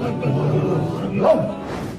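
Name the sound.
people imitating dog barking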